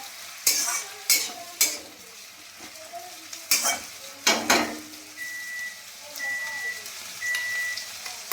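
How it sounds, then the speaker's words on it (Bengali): Capsicum, tomato and onion frying in a pan give a constant sizzle, with several loud spoon scrapes and knocks against the pan and a few brief beeps near the end. "ক্যাপসিকাম টমেটোটা এই কী বলে, পেঁয়াজটা ভালো করে ভেজে নিই"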